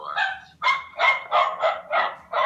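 Several dogs bark in quick succession, a run of about seven loud, close yips and barks in a steady rhythm, with no one talking.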